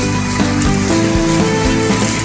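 Heavy rain pours down steadily along Sukhumvit Soi 39, a loud, dense, continuous wash of falling water with no voices heard.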